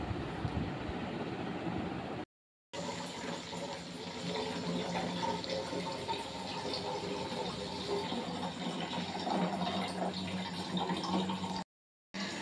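Tap water runs steadily into a baby's feeding bottle at a sink, a continuous close splashing flow with two short breaks.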